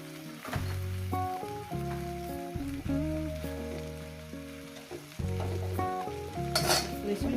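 Pea shoot greens drop into a pan already frying potato, flat beans, eggplant and lentil dumplings, giving a soft sizzle with stirring scrapes and a clatter of utensils over a background of music.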